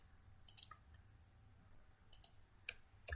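A computer mouse clicks faintly in a quiet room: a pair of quick clicks, a pause, then more short clicks spaced unevenly, close and soft with no talking.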